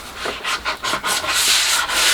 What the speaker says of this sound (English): I've just given it a very light rub over with 320 grit just to denib it